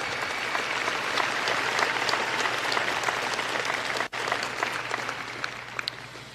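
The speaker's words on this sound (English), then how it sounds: "can we give everyone a round of applause for being here in person?" Sustained round of applause from a large crowd at a 2022 high school graduation ceremony, broad and even clapping, briefly dipping near the end before resuming.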